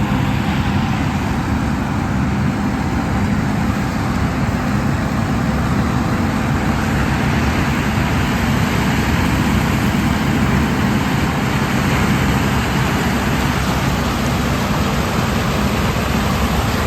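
A semi truck runs steadily on a farm field during corn and soybean harvest, its broad low engine and road-like rumble filling the scene continuously and fairly loud, with no voices.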